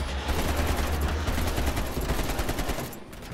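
Sustained, loud automatic gunfire in the video game Call of Duty: Cold War, a dense rattling volley from several weapons at once that fades slightly near the end.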